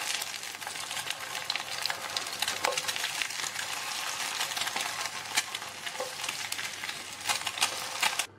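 Egg frying in a pan for a simple bread breakfast, a steady close hiss and crackle of sizzling oil with scattered sharp pops, continuing evenly throughout without any talking.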